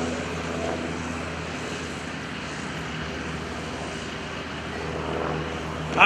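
An RV light aircraft at the Greenwood Lake airshow in 2011 drones steadily at moderate distance, a continuous propeller engine hum that swells slightly at the end.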